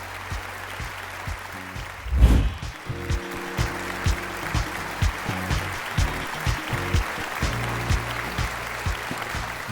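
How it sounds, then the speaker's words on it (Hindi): Studio audience on the Pakistan Idol gala round claps after a contestant's performance, a loud thump at the start followed by a rhythmic, patterned clapping with a musical hum underneath, moderately close. "एक दफा भरपूर तालियां भाई रुमैसा के लिए"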